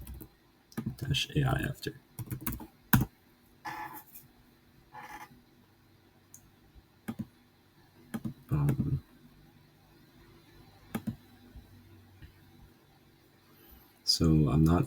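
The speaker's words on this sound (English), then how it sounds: "So we just have to Google these questions and type in" Typing on a computer keyboard during a timed chemistry self-study session, with bursts of clicky keystrokes spread through the clip between quiet gaps, and brief speech near the start and end.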